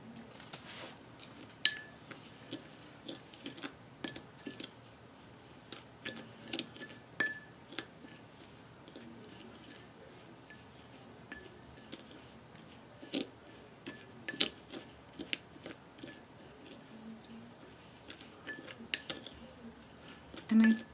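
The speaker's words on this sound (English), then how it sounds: "Let me give this a quick stir to see where we are at." A glitter mix being stirred in a container, with faint scattered clinks and scrapes spread across a quiet background.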